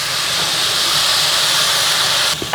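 Vegetables coated in teriyaki sauce cooking in a hot pan, giving a loud, steady steamy hiss and sizzle close up with no talking.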